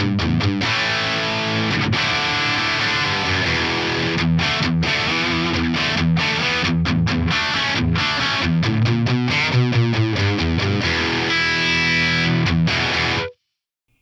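Electric guitar played through a flanger with transformer-preamp drive and saturation in a rock tone, with a continuous distorted riff, sweeping whooshing modulation and choppy rhythmic stabs, loud and alone until it stops sharply.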